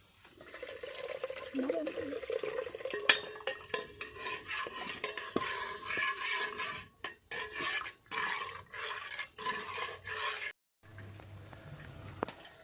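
Strained sour yogurt being stirred into milk for misti doi: a steady rasping scrape of a spoon around a pot in rhythmic strokes, close and continuous, pausing briefly near the end.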